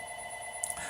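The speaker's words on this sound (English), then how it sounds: "I hear the phone ring, and that's just going to have to ring." Telephone ringing faintly in the background, a steady electronic tone that carries through the brief moment, distant and quiet.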